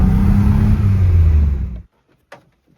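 An Alpine car pulls away with its engine revving loudly and close for nearly two seconds, then cuts off abruptly, leaving near silence with a faint knock afterward.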